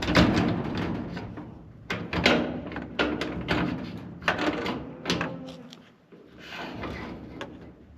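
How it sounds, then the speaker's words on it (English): A door being closed on a farm, heard as a series of wooden knocks, bumps and slides with a brief quieter gap, then more handling near the end. "All right, I gotta close this door."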